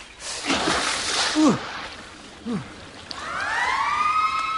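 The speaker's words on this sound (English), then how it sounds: "It's a siren, I think." A siren rises in a smooth upward wail near the end, clear and fairly close, after a stretch of splashing water from swimmers in deep water and short vocal sounds.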